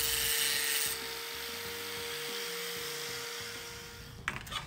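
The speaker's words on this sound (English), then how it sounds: "I'll get a closer look to here at how I grind off some of that and smooth the edges" A power tool grinds and smooths cut metal edges on a shelving unit, a steady whining drone with shifting tone, loud and close, ending in a few scraping bursts.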